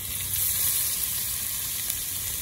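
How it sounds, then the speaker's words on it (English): Ground beef and vegetables browning in a cast iron Dutch oven at a campsite, a steady, bright, close sizzle of frying with no pauses and no voices. "Now we're just gonna brown the beef and the vegetables"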